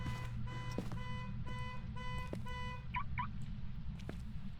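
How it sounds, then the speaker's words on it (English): Car alarm in the video game Phasmophobia, a loud repeating electronic tone pulsing in regular bursts over a constant low rumble, with no talking. "so that's the car alarm going off"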